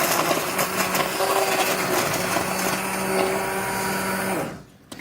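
A blender purees a fall soup of roasted mushrooms and nuts with tarragon. The motor whirs loudly and steadily with a sustained tone for about four and a half seconds, then cuts off.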